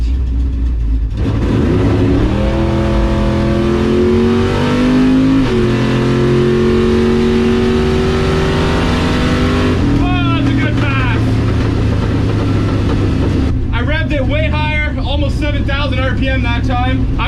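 Ford and Chevy drag race cars launch hard from the line, a loud, sustained engine roar with rising pitch as they accelerate away, a second engine surging in near the end, voices talking over it throughout.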